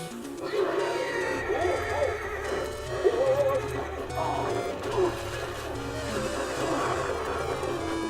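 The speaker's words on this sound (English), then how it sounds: "Daryl, pay attention to the horse, sweetie." A horse neighs and whinnies repeatedly, close and loud, with hoof clip-clop and faint voices mixed in, heard outdoors in a scene from a Walking Dead parody.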